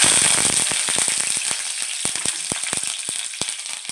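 Mustard seeds and curry leaves fry in hot oil with a bright steady sizzle, as popping seeds give sharp, irregular crackles and snaps close by with no voices.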